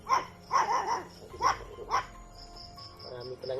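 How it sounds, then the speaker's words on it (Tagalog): Several dogs bark in short bursts nearby, a few sharp yips and barks followed by quieter whimpers, with faint background sounds. "Marami palang aso dito"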